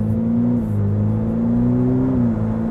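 Turbocharged three-turbo car, apparently a McLaren 720S, pulls hard under acceleration with a steady, rising engine drone that builds smoothly over a few seconds, heard from inside the cabin with no talking.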